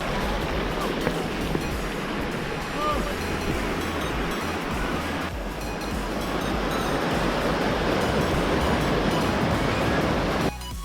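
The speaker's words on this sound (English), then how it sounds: "at this point it's just a lovely waterfall and just pool of water" A lovely waterfall pours into a pool of water beside a hill walking path near a bridge on Carn a M'haim, giving a steady, loud, unbroken rushing roar for the whole stretch.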